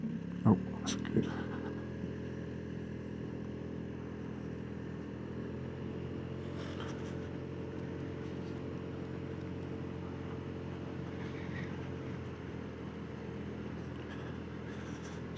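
A Vespa GT 200 L scooter engine drones steadily while riding on roads toward Goodwood Hill, a constant low hum with a few brief bumps and gusts of wind noise, heard close from the rider's position.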